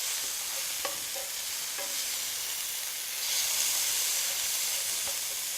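Onion and garlic sauté in a pan, giving a steady, even sizzle and hiss with a few faint clicks of stirring, moderately close and unbroken by talk.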